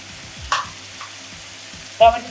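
Chopped tomato fries with spices in a pan for a Bangladeshi fish curry, giving a steady close sizzle broken by two brief stirring scrapes.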